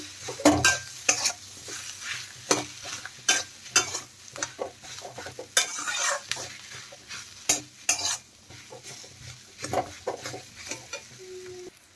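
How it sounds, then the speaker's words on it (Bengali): Boiled potato being stirred into fried spices in a pan, with repeated scraping strokes and spoon-on-metal knocks over a steady sizzle, close and fairly loud. "ভালো করে নেড়ে চেড়ে মিশিয়ে নেব মশলার সাথে আলু।"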